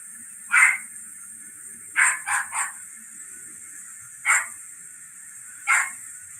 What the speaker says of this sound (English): Chihuahua breed, definitely